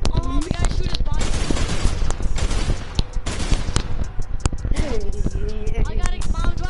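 Rapid gunfire from a PS4 shooter game crackles in dense bursts and volleys, loud and close, while players talk excitedly over it.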